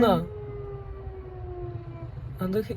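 An ambulance siren wails in traffic on a single-lane road, holding one steady tone that drifts slightly lower, with voices talking briefly at the start and end.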